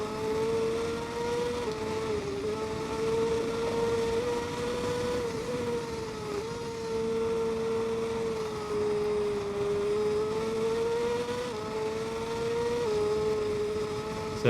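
A racing motorcycle in TT Isle of Man 2 roars along the road course, its engine holding a loud steady high-revving whine that rises and falls slightly through corners, alone without talk.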